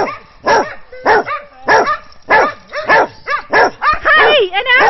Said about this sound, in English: do you want me to walk away so I have all these dogs barking?